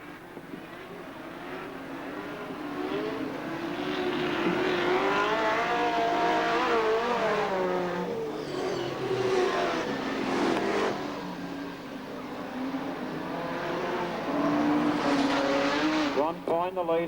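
Super sedan race cars roar around a speedway oval in an Australian championship, engines rising and falling loudly as they pass, while an announcer commentates over the racing.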